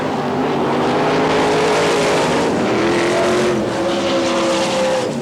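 Race cars roaring around a dirt track at an NCRA All Stars event in Wichita, Kansas, a loud continuous wall of engine noise with overlapping rising and falling engine notes as several cars pass close by.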